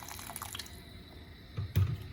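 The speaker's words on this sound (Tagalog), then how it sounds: "Lagay na natin yung water." Water is poured into a cooking pot holding lamb for adobo, first as light dripping and trickling, then ending in a short, louder splashing gush close by, with no one talking.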